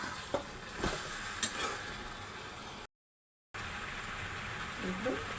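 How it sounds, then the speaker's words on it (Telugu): Cut spiny gourd pieces go into a hot pan, setting off a steady sizzle and frying crackle with a few sharp pops early on, briefly cut to silence before the sizzling resumes. "కోసి పెట్టుకున్న ఆగాకరకాయ ముక్కలు వేస్తున్నాను."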